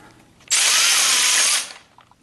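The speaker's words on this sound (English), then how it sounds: "I'm going to put the camera down so that I can operate the ratchet with my right hand." A powered ratchet tightens bolts on brake caliper parts of a 1976 Corvette restomod, producing a single loud, close whirring burst that lasts about a second and then trails off into quiet.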